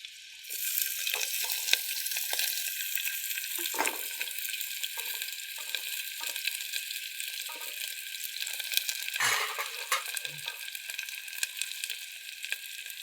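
Onion and garlic frying in a pan, a steady bright sizzle with occasional stirring scrapes and clinks, close and fairly quiet, without talk.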